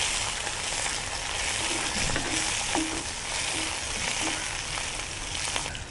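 Curry leaves and coriander fry in a pan for a mutton and green lima bean curry, giving a steady, close, broadband sizzle with small crackles throughout and no talk.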